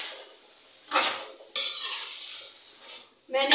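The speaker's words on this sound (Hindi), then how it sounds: "अब मैं इसमें टिंडे ऐड कर दूंगी। अब मैं इसे एक दफ़ा मिक्स करूंगी।" A metal spoon stirs tinda (apple gourd) into masala in a pan, with close scraping and clinking against the pan in a few distinct bursts separated by quieter gaps.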